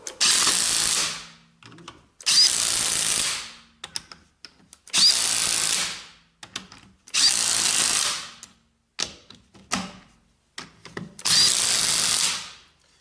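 A Craftsman C3 battery-powered 1/2 inch impact wrench runs in six loud, close bursts of about one to one and a half seconds each, the last few shorter and choppier, with near silence between them.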